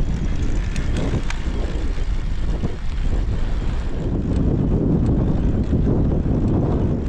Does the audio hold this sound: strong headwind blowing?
yes